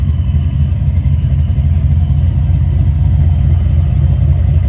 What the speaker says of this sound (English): Guys, you gotta hear this thing. Oh my God. Vortex supercharged V8.